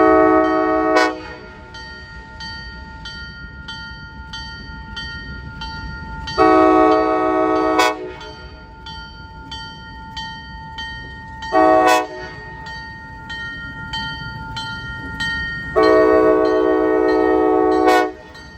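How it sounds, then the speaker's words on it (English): ALCO diesel locomotive of the Arkansas & Missouri Railroad with a passenger train taking the siding at Chester, Arkansas, sounding four loud horn blasts, long and short, over a steady engine rumble and rolling rail noise. "the passenger train takes the siding in the small town of Chester, Arkansas"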